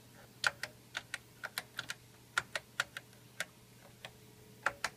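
Quiet, irregular keystrokes on a computer keyboard, about a dozen taps in short bursts over a faint steady hum.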